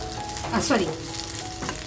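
Dry coconut roasting in a hot pan, a steady soft sizzle with a brief sweep of stirring scrapes in the middle, close and alone.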